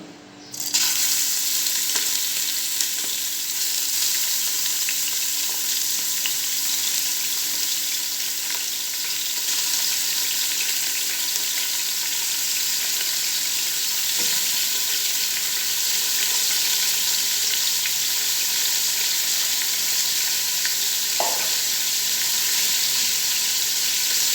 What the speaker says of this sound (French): Là, on va ajouter de la viande.